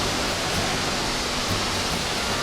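Tad Yuang waterfall near Paksong, Laos, roaring from close range as a dense, steady wash of noise that never lets up, with no talking.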